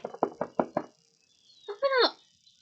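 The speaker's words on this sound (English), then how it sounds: "Harry shouted, pounding on the door" Five sharp knocks pound on a wooden cabin door in a quick series, then stop, followed by a brief throaty bark or shout-like call after a pause.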